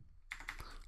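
Quick, close keystrokes on a computer keyboard while entering Python code, a short burst of light clicks following a brief silence.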